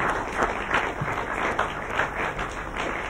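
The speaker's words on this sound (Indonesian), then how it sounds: "kita berikan tepuk tangan untuk ibu-ibu." Audience applause for a group of women at a lively comedic stage show, a steady dense patter of many hands clapping at moderate volume that holds for the full stretch without letting up.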